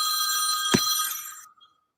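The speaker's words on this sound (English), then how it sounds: "That is an old sounding phone. Is that a rotary phone? No, it's actually my other cell phone." A cell phone sounding an old-style bell ring, a bright metallic trill that rings loudly with one sharp strike partway through, then cuts off and falls silent.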